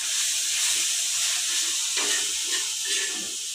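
Oil sizzles steadily in a pan on low heat while gongura chicken cooks with ginger paste, a continuous frying hiss with a few soft stirring scrapes partway through.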